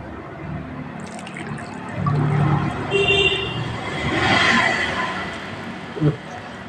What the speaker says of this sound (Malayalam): ഈ വെള്ളം ഞാൻ നാളികേര വെള്ളമാണ് ആദ്യം ഒഴിക്കുന്നത്